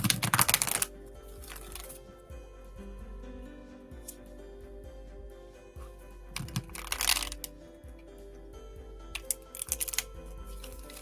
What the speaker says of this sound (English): Doing a little bit of shuffling.